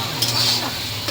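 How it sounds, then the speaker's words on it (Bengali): Onion frying in oil in a wok, stirred with a utensil: a brief close sizzle with a scraping stir over it, no voices. "কড়াইয়ের মধ্যে তেলের মধ্যে করে নাড়িয়ে নিই"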